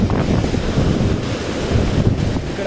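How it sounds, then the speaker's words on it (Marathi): A fierce storm wind in a village, with thunder and rain arriving. Loud, continuous buffeting roars across the microphone in gusts, with no voices. "एवढं भयानक आहे गावाकडचं वारं"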